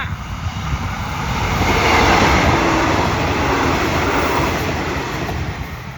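An express train, Thai railway, roars past close by near a bridge, a broad steady rumble that swells to a peak and then slowly fades as it moves away, with no voices.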